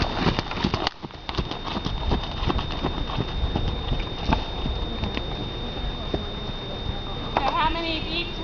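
Continuous rhythmic hoofbeats of a horse moving at a steady gait, close by, with a faint steady tone and brief speech near the end.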